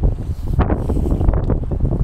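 Gusts of wind buffet the microphone outdoors in a supermarket parking lot, a loud, rough low rumble that fluctuates continuously with no voices.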